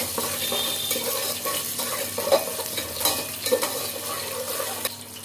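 A spoon scrapes and stirs cumin, shahi jeera, kasuri methi and green chillies in a pan for tomato rice, with soft clinks and a light sizzle that stays close and steady.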